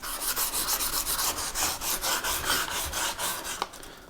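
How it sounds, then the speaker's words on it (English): Sandpaper rubbed by hand along wooden table edges, a close, steady back-and-forth scratching in a quick even rhythm with no talking. "Now I'm just using one to sandpaper these edges."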